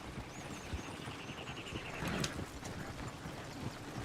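Horse hooves clip-clop in the Red Dead Redemption video game, a steady background trot under an ambient game soundscape, with a brief louder burst midway.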